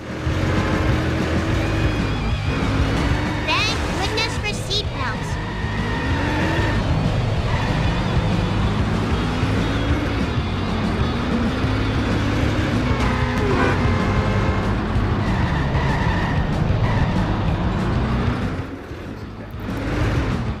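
Sluggish car engine drones continuously through racing in The Simpsons Hit and Run, with the pitch rising and dipping as the vehicle accelerates, skids and bumps, loud and steady throughout.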